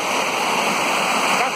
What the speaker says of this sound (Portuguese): para apreciar essa linda cachoeira, vista maravilhosa